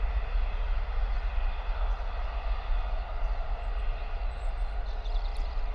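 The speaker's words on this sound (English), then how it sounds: "EasyJet heading out to Barcelona, A320 214 variant" An EasyJet Airbus A320-214 takes off from Bristol Airport, heard as a steady, broad engine roar with a heavy low rumble, sustained and moderately loud throughout.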